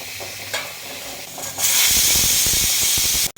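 Sizzling chayote curry in a hot pan with stirring scrapes, the hiss swelling louder midway, close up and without speech.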